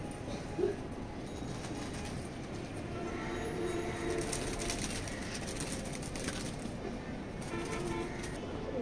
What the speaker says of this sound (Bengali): আমার কবুতর যে উঠতেছে দেখেন